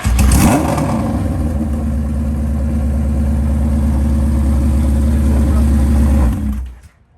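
A motorcycle fitted with a Vance and Hines exhaust, up close at a car and bike show, gives a quick rev, then holds a deep, loud throbbing idle for several seconds before cutting off.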